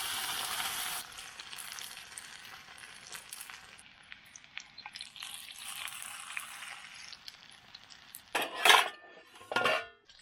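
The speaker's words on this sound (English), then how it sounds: "Next, I poured in some more oil to prep for frying" Breaded, seasoned fish frying in oil at a campsite: a steady soft sizzle with occasional metal clinks of utensils against the pan, and a couple of louder scraping clatters near the end.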